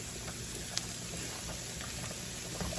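Tuscan sausage broken up and sizzling in a hot pan, a steady close crackle and spitting patter with a few sharper pops, no voices.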